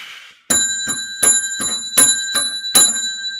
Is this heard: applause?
no